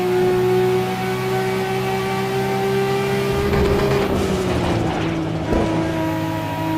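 Racing cars in the driving game Assetto Corsa, played in VR, give a sustained close engine drone that shifts pitch partway through as other cars close in, with no talk.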